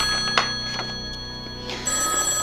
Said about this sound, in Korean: 전화가 걸려왔습니다.